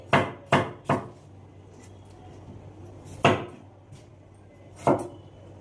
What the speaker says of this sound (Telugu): ఇట్లా ఒక చిన్న చిన్న ముక్క కింద కట్ చేసేసుకోండి